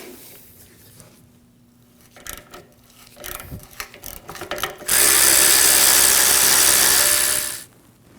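A ratchet works a 13mm bolt loose from the power running board motor on a 2009-2014 Ford F-150, starting with scattered clicks and handling and then breaking into a loud, steady buzzing whir for about three seconds before cutting off.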